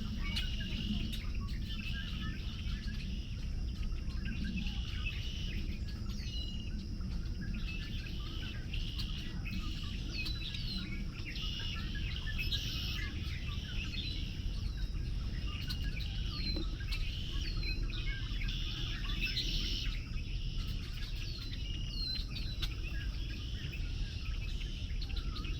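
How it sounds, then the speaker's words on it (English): Red-winged blackbirds chirp and trill steadily across a busy outdoor soundscape at Fontainebleau State Park, with a constant insect hum and low rumble underneath; no clear speech. "So many red-winged blackbirds."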